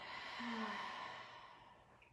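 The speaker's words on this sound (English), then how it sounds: "breathing out" A slow, soft exhale during a gentle yoga flow, a single breath that swells and then fades over about two seconds, close and quiet with no talking.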